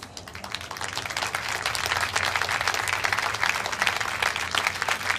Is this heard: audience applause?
yes